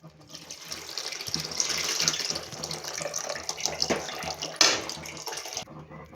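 Tamarind water pours steadily into a pan of crab gravy for several seconds, a continuous splashing stream that swells and then tapers off, with no talking.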